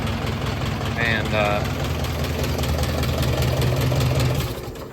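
A rebuilt engine in an old tractor idles steadily with a low, even rumble, while a voice speaks briefly over it near the start.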